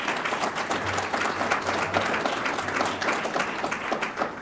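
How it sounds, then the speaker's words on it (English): Audience applause for cadets at an Air Force JROTC graduation ceremony, a dense, even wash of many hands clapping indoors, sustained at steady loudness for the whole stretch with no talk over it. "Let's give them a round of applause real quick."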